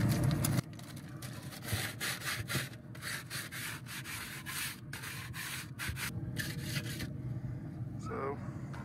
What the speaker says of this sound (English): We're gonna clean these old grates off.